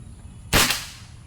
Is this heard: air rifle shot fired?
yes